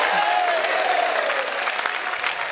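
Audience clapping during a Jain afternoon sermon by Acharya Vidyasagar Ji Maharaj at a pichchhika ceremony, a short burst of loud, dense applause with a faint voice briefly audible beneath it.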